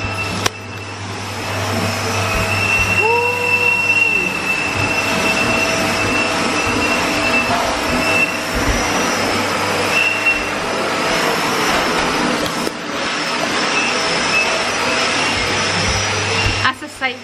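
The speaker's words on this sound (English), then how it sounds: "That's a sight you'll not see too often, people hoovering." Vacuum cleaner hoovering in a newly fitted home kitchen, a loud continuous whining drone that runs steadily nearby for the whole stretch with a faint voice underneath.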